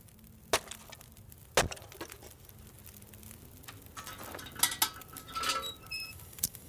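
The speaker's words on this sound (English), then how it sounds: "let's see what else we can find by chopping stuff up" Wood items being chopped up in The Long Dark: sharp, isolated cracks and knocks spaced a second or so apart, fairly quiet, over a low background hum.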